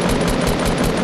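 Rapid automatic gunfire from a video game, a loud, continuous burst of closely spaced shots filling about a second.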